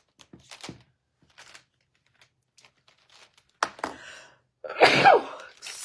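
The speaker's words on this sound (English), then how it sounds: "I need to sneeze." A single sharp, loud sneeze bursts out near the end during a crafting session, after a few quiet rustles and small taps from handling materials at a work table.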